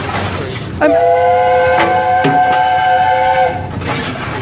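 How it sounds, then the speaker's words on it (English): Steam express locomotive Oliver Cromwell on the move, a loud sustained multi-tone steam whistle blast over the rumble of the running engine and train, heard close by. "This is what happens when you are on this spectacular express locomotive."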